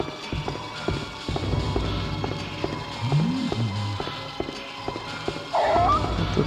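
A dog in the PS2 horror game Haunting Ground, with a short bark or yelp amid rhythmic footsteps and game noise, moderately loud, with brief talk.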